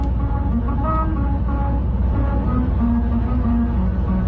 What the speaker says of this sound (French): c'est la voiture en roulant sur les rainures.